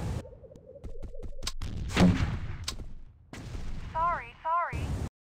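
Weapon fire in the sci-fi shooter Starsiege: Tribes: a run of rapid sharp shots, then a heavy blast with a rumbling tail and more bursts, mixed with game effects and electronic chirps while a voice speaks.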